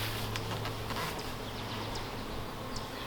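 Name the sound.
bees at a hive entrance during inspection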